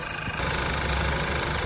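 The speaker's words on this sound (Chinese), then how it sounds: "现在这个发动机声音呢是正常的啊" A Volkswagen Tiguan 1.8T engine idles after an overhaul, a steady, even hum close by with no other sounds over it.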